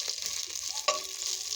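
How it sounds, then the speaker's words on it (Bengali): Black cumin seeds, garlic, onion and chili fry in hot oil for a lentil dal tempering, giving a steady close hiss of sizzling with light stirring and one brief sharp crackle partway through. "এখানে আমি কয়েকটা কালো জিরা আর একটু রসুন মরিচ দিয়ে দিয়েছি, ভাজা ভাজা করে নিচ্ছি"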